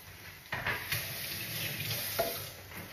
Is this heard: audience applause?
no